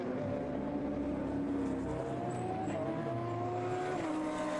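A Ford GT race car at the 2011 Blancpain Endurance Series round at Navarra, engine note rising and falling steadily as it heads into the pit lane, loud and continuous with no talk.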